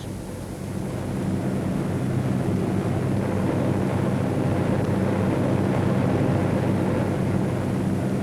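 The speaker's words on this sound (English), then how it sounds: "11 planes of a B-24 squadron take off at 1-minute intervals" Several B-24 bomber planes take off one after another, their engines a steady, loud broadband roar that swells in during the first second and holds constant, with rumbling low end and wind-like hiss.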